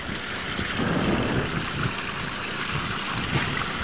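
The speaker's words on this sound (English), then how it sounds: "Water still rushing out." Steady rushing, splashing water pours continuously out of a 1994 Chevrolet Cavalier pulled from a lake, a broad wash of noise with no talking over it.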